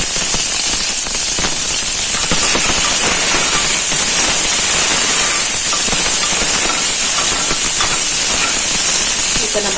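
Mustard seeds, urad dal, fennel, curry leaves and crushed onion sizzle loudly in hot oil for a banana flower kurma, a dense crackling hiss with sharp popping from start to finish, close up and without talk.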